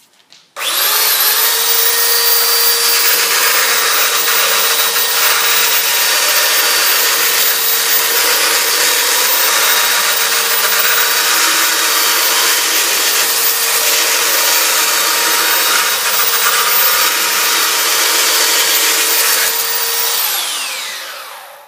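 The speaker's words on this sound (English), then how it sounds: "I've just got my small belt sander, and using that to round it over" A small belt sander rounds over the edge of a masonite panel, whining into a loud, steady high-pitched grinding drone that runs unbroken for about twenty seconds before spinning down at the end.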